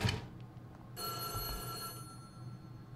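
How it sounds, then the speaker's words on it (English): A telephone rings in the horror game White Day, a bright electronic bell with steady harmonic tones starting about a second in and stopping after a second or so, heard over low background ambience. "Which phone is it? It's not ringing no more."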